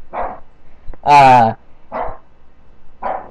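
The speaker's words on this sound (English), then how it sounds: "he starts barking like right when I start this video" A dog barks sharply up close, a single loud bark standing out between several shorter yelps, the sounds coming in quick separate bursts.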